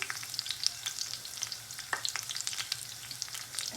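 Curry leaves and fennel seeds crackle and sizzle in hot oil, a dense, bright frying hiss with quick popping bursts and faint stirring scrapes, steady and close for a few seconds with no voices.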